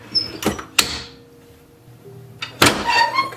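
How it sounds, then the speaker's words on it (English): A drawer pushed shut during heat-press T-shirt work, giving a couple of sharp close thumps followed by a louder knock and rattle near the end, with no talking. "push my drawer in"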